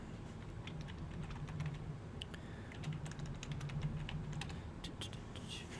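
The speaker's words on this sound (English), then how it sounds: "sorry about the keyboard and mouse" A loud computer keyboard and mouse give out uneven bursts of clicking keystrokes and clicks, fairly close but low in level, over a quiet room hum without speech.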